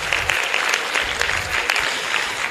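Audience applause at a political conference on the people's era, a steady wash of many hands clapping close and loud for the whole stretch, with no speech over it.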